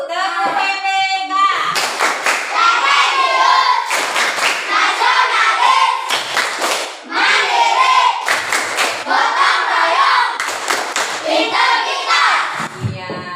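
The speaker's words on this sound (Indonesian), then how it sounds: "Biar lebih bersemangat, kita tepuk PPK dulu." A group, likely a classroom of students, performs the 'tepuk PPK' routine: bursts of loud rhythmic clapping in patterned sequences, with brief pauses and a few voices chanting along.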